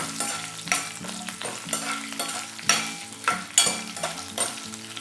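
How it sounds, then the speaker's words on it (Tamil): Dried red chillies, lentils and fenugreek seeds sauté in a pan, with a steady sizzle broken by repeated sharp spatula scrapes and clatters against the metal, close and fairly loud, no talking. "இப்போ இது எல்லாத்தையும் நல்லா வதக்கிக்கணும்."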